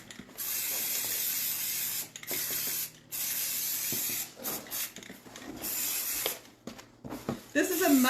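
Short bursts of aerosol spray primer, a light coat going onto a piece of furniture, hiss close and loud in several separated passes with brief pauses between them, ending in a few softer rustling sounds.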